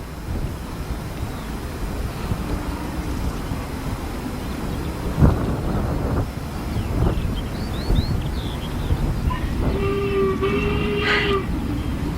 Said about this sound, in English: here's the loco at Eton in March 2009 with a private charter from King's Lynn to Melton